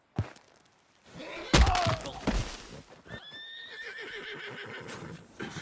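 A horse lets out a loud, shaky whinny up close, preceded by thuds and hoof clatter, with a trailing snort afterward, in the video game Red Dead.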